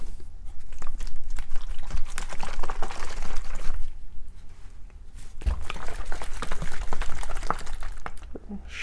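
Hydroponic fertilizer mix and water slosh and rattle inside a container being shaken hard, a dense, close churning that pauses briefly and then resumes.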